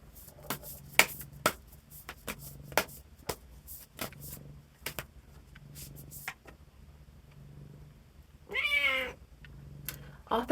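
A house cat meows in a short rising-falling cry near the end, after scattered soft taps and card-shuffling sounds over a quiet room hum.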